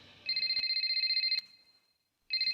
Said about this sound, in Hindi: हे केन, ये उसी का फोन है, इसे रिकॉर्ड करो प्लीज।